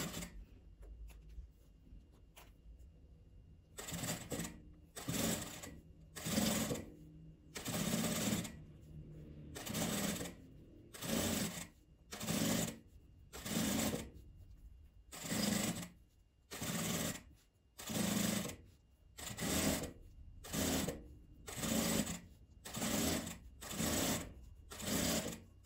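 A sewing machine stitches around the edge of a fabric piece in a long run of short, evenly spaced whirring bursts, each a second or two long with brief pauses between, close and clear.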